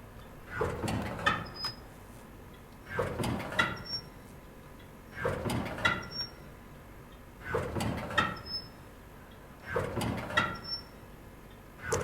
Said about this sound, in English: Close the metal door in the alley.